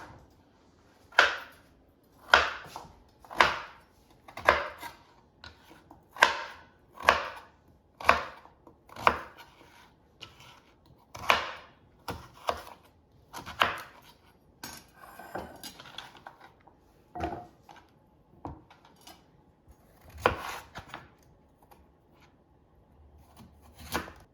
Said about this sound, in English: So I will just cut them into wedges first, and then cut each wedge into pieces.